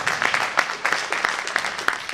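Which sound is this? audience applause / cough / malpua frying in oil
audience applause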